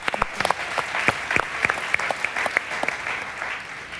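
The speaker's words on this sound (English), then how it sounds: "Big applause." Audience applause at the South Summit 2016 Arena Stage, a few seconds of lively clapping with sharp individual claps standing out over a crowd-wide patter, loud and close, then tapering slightly.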